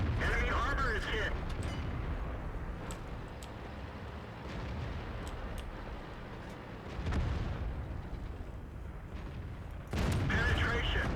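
Tank cannon shots and shell impacts on armor from World of Tanks, a fast-firing gun in a dense battle mix, with heavy booms near the start, around seven seconds and again near the end amid continuous rumble.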